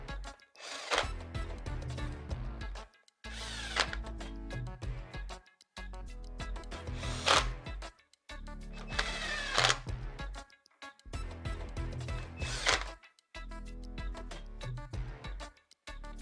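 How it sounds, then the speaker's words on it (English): Engine cover bolts on a Kohler Magnum 16hp engine are tightened by hand in a star pattern. Five bursts of dense clicking and rattling come up close, each a couple of seconds long, with short silent gaps between them and no speech. "then I torque them by hand"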